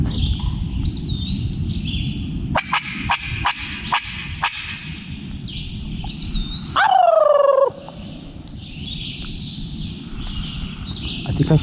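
Wild turkeys on public land in mid-morning let out several loud, warbling gobbles, one especially close and strong, among scattered clucks and small bird chirps over a steady outdoor hiss.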